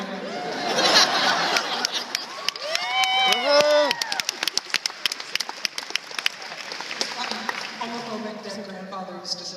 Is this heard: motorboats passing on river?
no